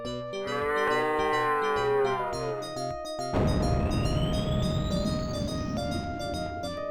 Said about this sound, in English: Did that cow moo on me?